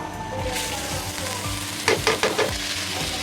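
Rice frying in ghee in a pot for pigeon biryani, a steady close sizzle with a burst of stirring scrapes near the end and no voices.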